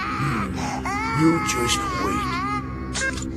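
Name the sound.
newborn Saiyan baby crying in anime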